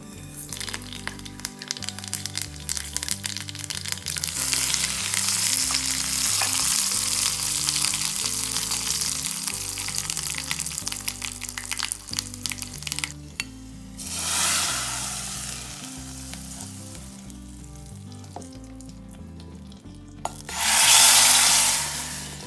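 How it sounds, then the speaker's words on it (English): Mustard seeds and curry leaves sizzle and crackle in hot plain vegetable oil for a Palakkad-style tadka, a loud, dense frying hiss with scattered pops that drops away, then returns in short bursts near the end, with no voices. "it's time for us to temper. So basically what it means is we're just giving it a tadka"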